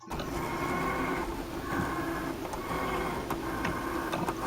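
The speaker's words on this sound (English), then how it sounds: "we are cutting out the vinyl on the Cricut machine" A Cricut cutting machine slices vinyl letters on a mat, giving a steady mechanical whir broken by clicking, ticking carriage movements and short repeated strokes, close and continuous with no talking.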